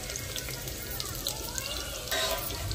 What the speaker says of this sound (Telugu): నూనెలో అయితే ఎర్రగడ్డలు వేసుకుందాము